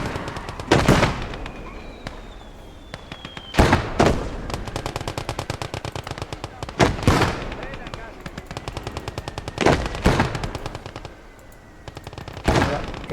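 Machine-gun bursts and heavy single shots crack out in the video game Blood Red Snow, sharp loud reports recurring every few seconds over a steady rattling undertone.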